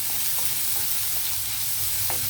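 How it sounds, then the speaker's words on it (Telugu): Onions frying in oil give a steady, close sizzle for the whole stretch, with a few light stirring scrapes and no voices. "ఇప్పుడు ఇదే ఆయిల్లో మనం ఆనియన్ ఫ్రై చేద్దాం."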